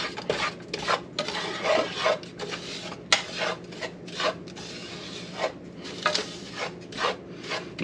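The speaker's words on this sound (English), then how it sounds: "I know you may not like that sound, but I had to use the other tong." Metal tongs scrape and rub against a pan while making lobster mac and cheese, in repeated uneven strokes, close and fairly steady, with clinking utensil sounds mixed in.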